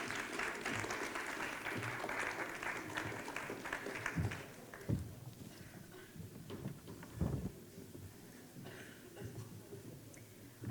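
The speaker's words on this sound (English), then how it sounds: "A warm round of applause." An audience gives a warm round of applause to welcome candidates for a student union welfare officer position at a leadership question-time event, a steady clatter of clapping that thins and fades into scattered claps.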